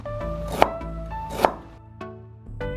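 A knife cutting scallions and ginger on a board, giving four sharp, separate chops about a second apart over steady tonal background music.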